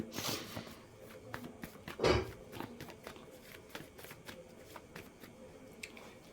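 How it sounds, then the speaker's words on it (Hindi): Tarot cards are shuffled and spill over one another in a quiet room, giving a steady papery riffling with a louder clattering burst partway through and soft flicks after. "ओ माय गॉड, ढेर सारे कार्ड्स नीचे गिर जा रहे हैं।"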